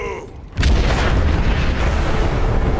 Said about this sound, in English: the explosion goes off in the background